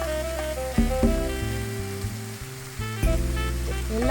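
Cooked basmati rice tipped into a pan of frying vegetables for veg fried rice gives a steady hissing sizzle, close by, under tonal background music.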